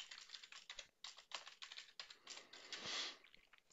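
Password keystrokes tapped on a computer keyboard, a quick irregular run of close, light clicks with short pauses between bursts.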